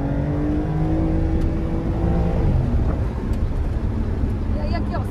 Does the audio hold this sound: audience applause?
no